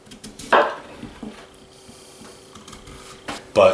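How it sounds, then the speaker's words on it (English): A kitchen knife scoring the cut flesh of a butternut squash, a few sharp scraping strokes at the start and end with quiet gaps between, close and crisp. "So we're going to score both pieces up"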